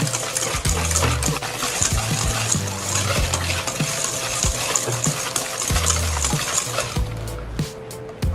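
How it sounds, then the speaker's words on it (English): Peach tart mixture being whisked by hand in a bowl until pale and creamy, a steady rhythmic scraping and clatter of the whisk running continuously and fairly loud, with no talking. "just need to keep on whisking until it looks a little bit pale"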